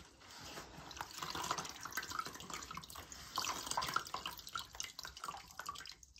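A wet grout sponge is wrung out by hand, water trickling and dripping back into a bucket nearby, a soft continuous splashing with no talk.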